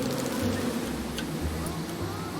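Bees buzz in a droning swarm inside the Psychonauts 2 video game, a steady low hum layered with wavering tones throughout.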